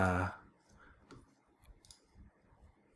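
Soft computer mouse clicks, a few isolated taps near and faint, following a brief voice at the start.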